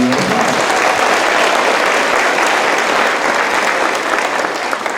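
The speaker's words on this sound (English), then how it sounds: "Y'all give them another round of applause." Dense, loud applause from a concert audience at a school music performance, steady and sustained throughout with no talking over it.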